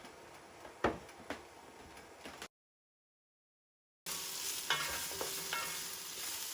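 Vegetables fry in a little oil in a cast iron Dutch oven with a quiet, steady sizzle and occasional stirring clicks, cut by a short silent gap, then returning slightly louder.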